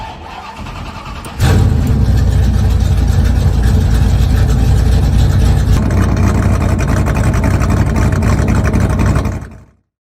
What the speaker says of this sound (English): Engines have been fired and drivers are on the grid